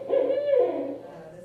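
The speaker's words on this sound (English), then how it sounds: "This is the eastern screech owl" An eastern screech owl, gray-faced, gives one short quavering hooting call, clear and fairly close, that fades out within about a second.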